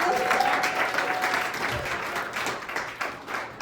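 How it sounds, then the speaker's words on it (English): A crowd at the end of a night's event breaks into steady applause, a continuous patter of many hands clapping at moderate loudness. "Give yourselves a round of applause."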